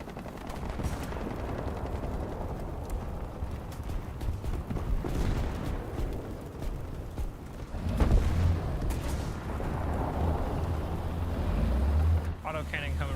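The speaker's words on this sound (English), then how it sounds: "Autocannon coming from the side too now." Rapid autocannon fire in a War Thunder battle, with dense bursts of gunshots under a steady engine rumble and background noise, continuing throughout at moderate volume.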